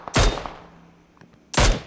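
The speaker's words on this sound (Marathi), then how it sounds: "हो ते थोडं फायरिंग आले बघ" Gunfire in the PUBG (BGMI) battle royale game: two loud, sharp bursts of shots about a second and a half apart, each with a short echoing tail, with quiet ambience between.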